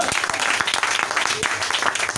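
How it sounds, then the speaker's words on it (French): Church congregation applauding and cheering at a French-language worship service, a dense wash of claps with voices mixed in, steady and fairly loud throughout. "Peux-tu donner une acclamation ce soir?"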